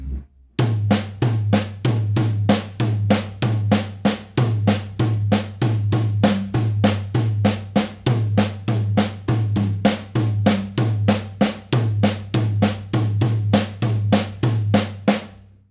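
Drum kit looping a double paradiddle groove, steady repeating pattern of kick, snare and hi-hat hits at an even tempo, close and loud, played alone without talk.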